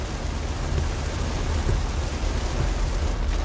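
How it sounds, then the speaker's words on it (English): Heavy rain pours down during an evening storm over flooded Texas Hill Country, a dense, loud, unbroken hiss with low rumbling beneath it. "Look at this rain, man."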